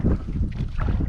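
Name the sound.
wind while kayak fishing on lake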